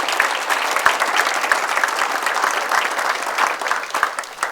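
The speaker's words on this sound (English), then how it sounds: "let's give her a round of applause" Steady audience applause fills a Valley City State University coaches Hall of Fame induction ceremony, dense continuous clapping at even loudness throughout with no voices over it.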